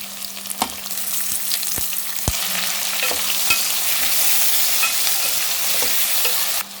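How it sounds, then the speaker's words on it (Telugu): Carrot, radish, drumsticks and tomato going into a hot pan for sambar, a loud continuous sizzle with several sharp clicks and knocks of a spoon against the pan, no talking. "ఇందులోనే మన క్యారెట్, రాడిష్, ములక్కాయలు అండ్ టమాటా కూడా ఇందులోనే వేసేసుకుందాం."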